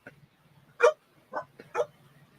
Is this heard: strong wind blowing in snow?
no